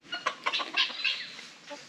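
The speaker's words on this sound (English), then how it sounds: "People won't even want chickens after seeing how loud you guys are." Chickens cluck busily inside a coop, a run of quick, close, fairly loud clucks and squawks crowding together over a second or two.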